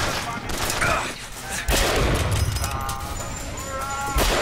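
Several bursts of gunfire go off in the shooter BioShock Infinite, sharp reports among game effects, with a voice speaking over part of it.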